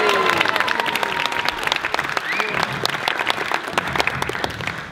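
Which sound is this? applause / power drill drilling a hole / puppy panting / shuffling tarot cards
applause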